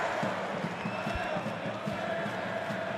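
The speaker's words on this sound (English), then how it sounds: "what you're hearing there, ladies and gentlemen, is the booing from the Yellow Fever" Yellow Fever supporters booing at a football match, a dense sustained crowd roar with rising and falling voices, heard from within the stands.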